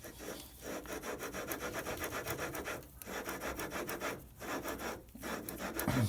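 Metal surface lapped by hand with an old-school lapping compound in oil or grease, a steady gritty rubbing scrape in continuous back-and-forth strokes with brief pauses, close and moderately loud, no talking.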